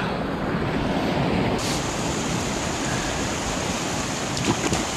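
Wild mountain river rushing loudly and steadily close by, a continuous broadband roar of water over rocks with no pauses, high in the mountains above 2000 metres.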